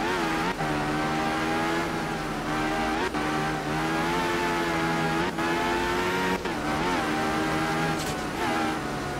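Rotary Group S rally car engine in art of rally, a loud high-revving whine that climbs and drops sharply with each gear change, heard alone and up close.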